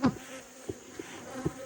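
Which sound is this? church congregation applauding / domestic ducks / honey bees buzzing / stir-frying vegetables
honey bees buzzing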